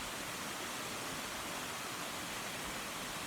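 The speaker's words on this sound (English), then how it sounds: "So check out this waterfall. It's beautiful." A waterfall roars as a steady, broad rushing wash of water, continuous and even throughout, with no voices.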